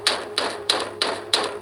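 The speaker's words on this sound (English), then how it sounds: "The banging then moved from the lockers to our classroom door" Banging on a classroom door, five evenly spaced heavy knocks about a third of a second apart, loud and close with a faint steady hum underneath and no voices.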